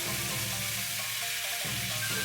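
Wagyu beef strips wrapped around rice balls frying in a pan give a steady, loud hiss of sizzling oil with faint crackles, continuous and close throughout.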